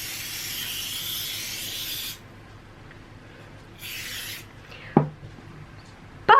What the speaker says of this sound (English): So what I am going to do is I'm going to take some nonstick spray.